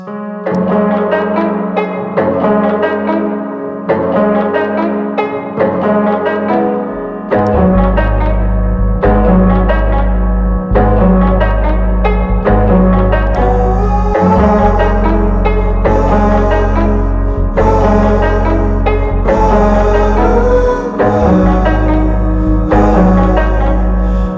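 A sustained keyboard passage plays a slow melody over held chords, with deep bass notes entering partway and filling out the harmony, loud and steady.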